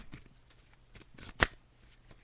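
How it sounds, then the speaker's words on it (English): Tarot cards being shuffled during a psychic reading, a faint rustle followed by one sharp, brief riffle snap, quiet and close with no talking. "So I'm just shuffling the cards now."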